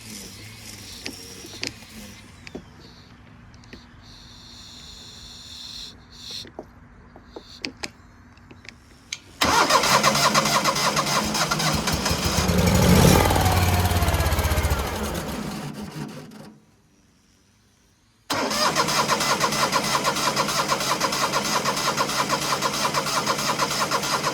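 A 1970s skid steer engine that is getting no fuel to the carburetor cranks loudly in two long bursts separated by a brief silence. It churns steadily without catching, close and harsh.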